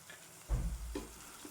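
Masala roasts in oil in a pan for a potato and tomato curry, with one quiet stirring scrape and a faint sizzle, short and close.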